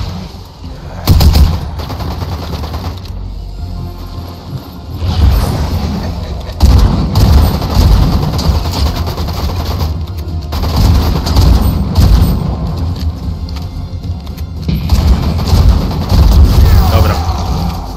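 Rapid video game gunfire, bursts of automatic shots and heavy booms that come and go over several seconds, loud and close, with someone talking at times over the shooting.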